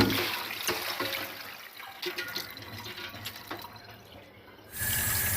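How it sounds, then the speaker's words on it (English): Raw turkey wings rinsed one after another under a running kitchen tap, a steady close wash of water splashing into a sink, briefly thinning midway and then surging back loud near the end; no talk. "So all you want to do is to rinse it out one after the other, just like this."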